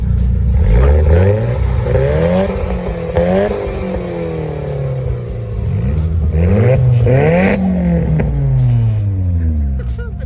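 A Nissan SR20 car engine revs loudly up close, its pitch climbing and falling in several repeated sweeps with some mechanical clatter.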